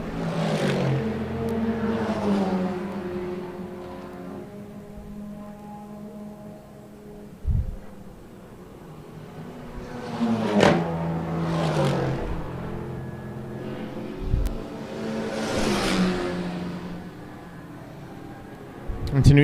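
VW Polo Super Cup race cars at Killarney Raceway during the South African 9 Hour Endurance Series, with engines revving and cars whooshing past in several separate passes under a commentator's voice.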